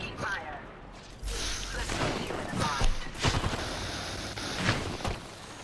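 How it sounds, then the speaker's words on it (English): Gunfire bursts crack repeatedly in an online shooter game, with several sharp loud shots and rapid volleys sounding close. Players talk over the combat. "Taking fire."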